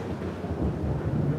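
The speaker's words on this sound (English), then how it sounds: "The maddest electrical storm." Thunder from a violent electrical storm rumbles loud and continuous, a deep rolling roar with a hint of rain underneath and no voices.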